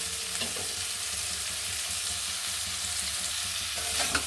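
Rohu fish and shrimp fry in a pan with a steady, close hiss of oil throughout, broken by a few soft stirring clinks near the start and end.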